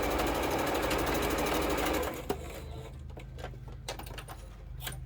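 Home sewing machine running a quarter-inch seam on a quilt block, a loud continuous whir for two seconds that stops, followed by quieter handling of fabric and thread.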